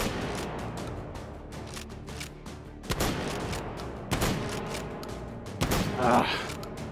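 A shotgun loaded with slug rounds fires in a VR shooting game, with three or four sharp, heavy blasts spaced a second or so apart over a steady background murmur.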